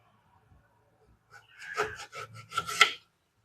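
Narthangai citron fruit is sliced into small pieces with a knife, a run of close, crisp rasping cuts in quick succession after a near-silent start.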